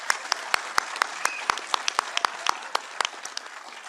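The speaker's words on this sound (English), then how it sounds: "Let's give a round of applause for our recruits." Audience applause for fire rescue recruits at a DeKalb County Fire Rescue graduation ceremony: a few seconds of clapping with distinct sharp individual claps standing out over a steady patter, moderately loud and without speech.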